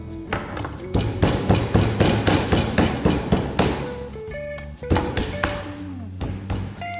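A meat mallet pounds a pork fillet, landing rapid, close, sharp thuds several times a second for about four seconds, then fewer, more scattered strikes against a faint steady kitchen hum.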